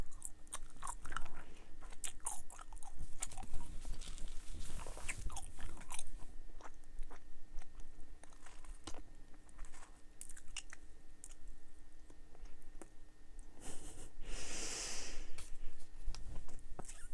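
Dubble Bubble watermelon and strawberry bubble gum being chewed right up close, with wet, sticky smacks and clicks in an uneven rhythm, soft breaths between, and a brief louder hiss near the end.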